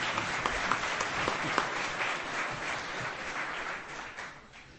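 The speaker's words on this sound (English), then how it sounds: "Give him a little clap." Audience at a London School of Economics literary festival lecture gives a short round of applause, steady clapping from many hands that fades out toward the end.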